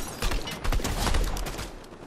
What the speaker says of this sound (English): there's someone shooting us